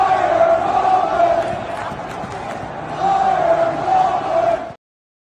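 Pittsburgh Steelers fans in a stadium crowd chant together in loud, sustained, rhythmic unison that swells midway and then cuts off abruptly.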